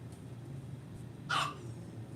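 A dog in an outdoor garden gives a single short, fairly close bark partway through, over a faint, steady background murmur.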